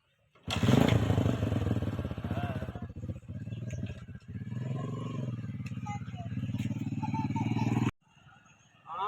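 A motorcycle engine turns over and catches right away, then revs loud and close with a rough, uneven idle for several seconds before it cuts off abruptly. People talk briefly over the engine.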